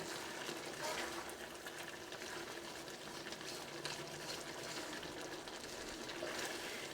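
Squid roast being stirred in a pan as the squid releases plenty of water, a steady wet sizzling and bubbling hiss running through the whole stretch at an even level.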